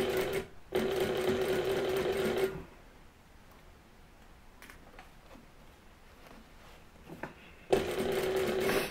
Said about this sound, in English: stitch from the bottom up, again just right inside and as close to the edge as you can